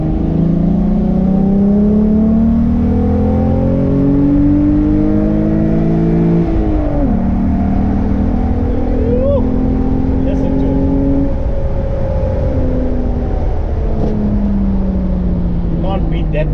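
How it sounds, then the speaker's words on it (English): A VW VR6 car engine revs repeatedly up and down, the pitch rising and falling in long sweeps, loud and close, with a steady rumble throughout. "That VR6 noise"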